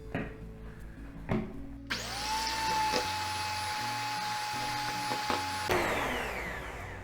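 An electric mixer whipping cream for red velvet pastries starts after a few knocks and runs loud and steady at an even whine for nearly four seconds, then winds down.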